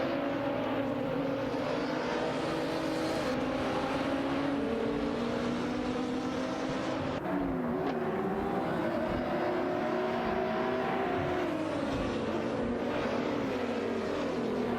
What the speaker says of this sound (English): Let's enjoy some exciting AI race car action together.